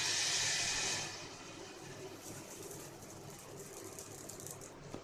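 Uthapam batter poured onto a hot stone griddle over a medium flame gives a loud, close hiss for about a second, then settles into a steady, softer sizzle.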